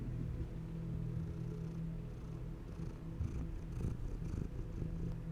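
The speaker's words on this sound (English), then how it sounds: "I don't know if her purring caught on the microphone or not" A domestic cat purrs steadily close to the microphone, a continuous low rumbling drone with a soft pulsing rhythm that runs unbroken throughout.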